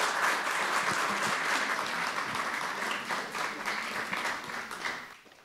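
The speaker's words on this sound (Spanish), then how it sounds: "Le damos una cordial bienvenida con un fuerte aplauso." Warm audience applause welcoming a speaker at a lecture on operatic legacy, steady and full before fading out at the end, with no talking over it.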